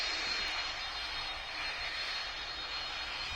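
Boeing 747 jet engines in the Roblox flight game PTFS while the airliner taxis, a steady loud whooshing roar with a faint high whine, constant and uninterrupted with no talking.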